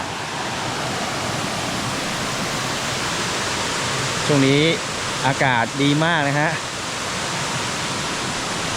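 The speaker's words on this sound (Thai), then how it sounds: "ฟังเสียงน้ำตกไหลครับ" A constant rushing roar of Tat Mok waterfall in a deep gorge, loud and unbroken, with someone briefly speaking over it midway.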